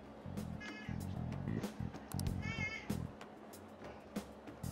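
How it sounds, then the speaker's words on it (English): A pet cat meows repeatedly indoors, several drawn-out close cries at a moderate level, interleaved with quieter background sounds. "You hear my cat meowing?"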